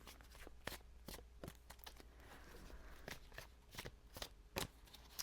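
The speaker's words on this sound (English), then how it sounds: "One more shuffle and I'll flip it." Tarot cards are shuffled close by, soft riffling and sharp snaps in an irregular rhythm, fairly quiet overall.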